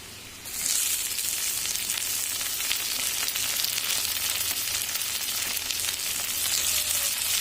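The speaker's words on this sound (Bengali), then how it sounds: "টমেটো দিয়ে আমি কিছুক্ষণ আমরা ভেজে নিয়েছি" Tomatoes hit a hot pan and a steady, bright sizzle of frying starts almost at once, continuing evenly and close up with a few faint stirring touches and no talk.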